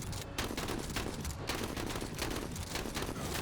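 Dense, continuous gunfire from the tactical video game Menace, rapid overlapping shots forming a loud, sustained fusillade with a brief dip near the start.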